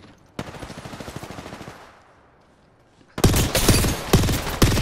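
Rapid automatic gunfire aimed at the player in a shooter video game, a fast rattling burst that fades out, then after a short lull a much louder, denser barrage of close shots with sharp cracks.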